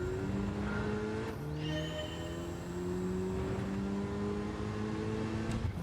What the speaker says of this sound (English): Interesting noises, interesting engine.